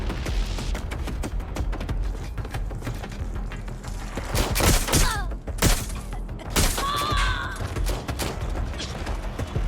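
Gunfire in the video game Watch Dogs Legion: scattered distant shots and sharp cracks under game ambience, with a few louder bursts in the middle and a brief electronic chirp, moderately faint overall.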